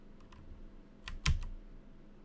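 Keys clack on a computer keyboard in a few quiet, scattered taps, with one firmer keystroke in the middle, during a coding session on a scripting language. The typing sits close and soft against a low background hum.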